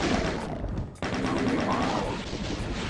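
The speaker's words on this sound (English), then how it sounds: "Let's use the chain gun, ideally on the Incubus." Chain gun fire in the video game DOOM, a loud rapid stream of shots rattling continuously, with a sharp break of about a beat before the burst resumes and keeps hammering to the end.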